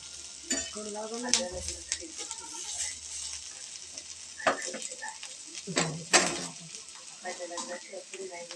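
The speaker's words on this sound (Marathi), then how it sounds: "हे बघा, अशी तळून घ्यायची आहे व्यवस्थित, जास्त करपून पण नाही द्यायचे." Ground masala paste fries in a pan for a bitter gourd (karela) dish, with intermittent stirring scrapes and a soft sizzle beneath occasional background voices and clatter.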